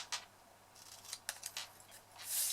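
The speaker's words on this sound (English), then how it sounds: "I'm just simply going to use my scissors to trim that down" Scissors snip through pizza box cardboard in a few quick, close crisp cuts, followed by a soft scraping rustle, with no one speaking.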